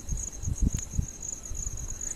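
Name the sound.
crickets chirping in the forest at night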